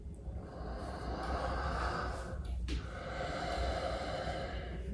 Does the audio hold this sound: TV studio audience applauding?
no